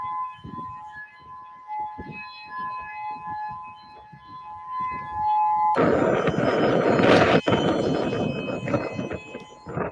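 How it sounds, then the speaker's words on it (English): A loud siren wails steadily during a fire in Kaanapali, Maui, joined partway through by a burst of broad rushing noise, like wind or traffic close by. "So you hear the sirens going off."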